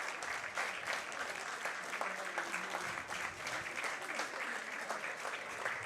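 Fans clap steadily during a charity football match, a continuous, evenly textured applause heard at a moderate distance with faint crowd murmur beneath.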